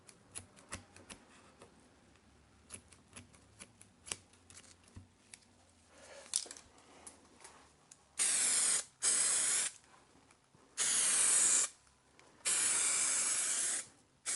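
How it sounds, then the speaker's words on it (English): A can of contact adhesive sprays in four bursts under a carbon fibre splitter on an Alfa Romeo Giulietta, each one a loud, close hiss lasting about a second, after quieter handling clicks and rustles. "I'm going to go under the piece, spray some contact adhesive."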